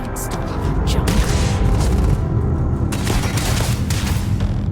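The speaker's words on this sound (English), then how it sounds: "We'll try the epic pistol." Epic pistol gunfire in the video game Starfield, dense loud bursts of shots and booming impacts that run continuously with little pause.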